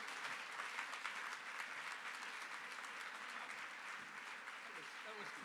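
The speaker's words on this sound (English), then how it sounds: "Let's have another round of applause for Erik Fyrwald." Audience applause after a speech at the World Food Prize Borlaug Dialogue, a steady, dense wash of clapping from a large crowd, fairly distant and even throughout.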